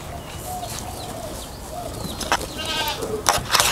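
Spotted dove calling faintly amid a busy background of other birds chirping and bleating-like cries, with a few sharper bursts near the end.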